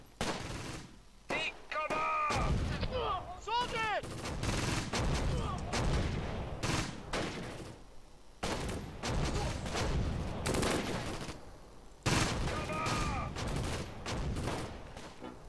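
Machine gun fire and scattered gunshots from a Close Combat: Gateway to Caen infantry battle, loud rattling bursts and cracks at varying distances with brief pauses between volleys.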